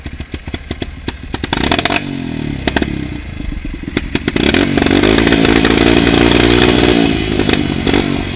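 Outdoors on a rural hillside, a motorcycle engine sputters and catches after a few rough attempts, then revs and holds a loud, rising roar with clattering mechanical noise.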